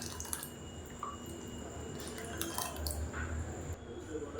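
Water swirled in a mixer jar to rinse it is poured into a spicy mustard chutney, giving a soft, close splashing and dripping trickle at low volume.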